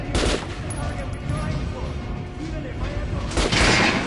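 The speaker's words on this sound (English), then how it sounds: "Try shooting for the center of the regular dummy's chest" Bursts of gunfire aimed at a regular training dummy on a video game firing range, loud rapid shots clustered at the start and again near the end, with a game voice talking over them.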